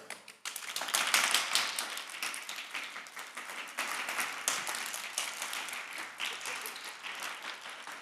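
A crowd at a live stage show claps together in a sustained round of applause, dense and fairly loud, with scattered louder claps and no one talking over it.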